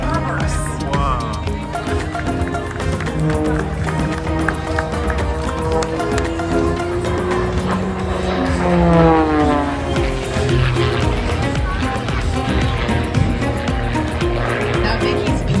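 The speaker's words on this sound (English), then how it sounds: "Now Vicky's beautiful monoplane was designed and built by Extra Aircraft for use in world-level aerobatic competitions" An Extra 300 aerobatic monoplane performing at the Oregon International Air Show, its engine droning loud and steady throughout with a pitch that rises and sweeps as the plane maneuvers, over background crowd noise.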